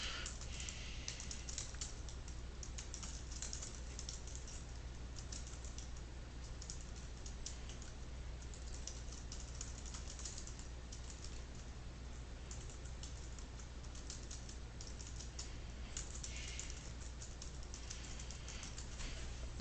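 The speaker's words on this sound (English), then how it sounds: "we're just going to type something in here relevant to our business" Text being typed on a computer keyboard, faint rapid key clicks in irregular bursts over a low steady hum, no voices.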